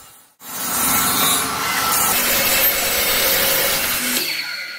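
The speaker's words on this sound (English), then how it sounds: "That's a lot of repetitive cuts which took some time, and I did it carefully to avoid danger using the miter saw." A miter saw makes a bevel cut through wood: a steady, loud, rasping whine lasting about four seconds before winding down.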